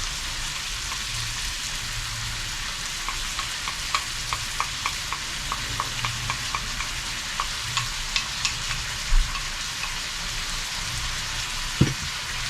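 Vegetables stir-fry in a pan with oyster sauce and stir-fry sauce, a steady hissing sizzle with a run of light rhythmic tapping stirs in the middle and a couple of sharper knocks near the end.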